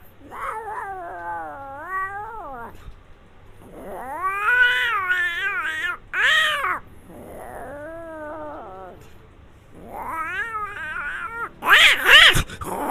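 A voice imitates two cats fighting, with drawn-out yowling caterwauls that rise and fall in pitch. The wails come in several separate bursts, with a sharper shriek near the end.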